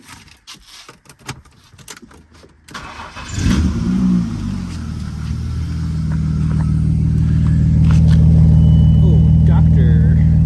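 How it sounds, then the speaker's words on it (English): A BMW E34 with thermostat and air box removed is cold-started: the starter cranks briefly, the engine catches with a loud rise, then settles into a steady, deep idle that grows slightly louder. Talk is heard over the cranking. "Give you all a little cold start"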